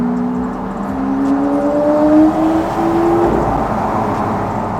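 A Lamborghini Aventador engine revs under acceleration, a strong rising roar heard from close by that climbs for about three seconds and then falls away into steady road and wind noise, with no voices.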